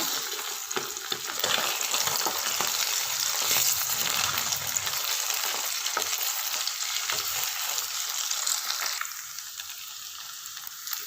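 Eggs fry alongside vegetables in a pan for chicken fried rice and are flipped, producing a continuous loud sizzle with scattered stirring clicks that eases slightly near the end.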